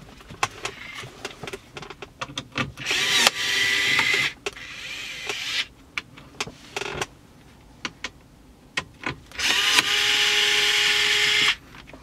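Cordless power tool backing out screws from the radio dash panel of a 1999–2006 BMW 3-Series, heard as several short, close whirring bursts separated by quiet pauses and small handling clicks.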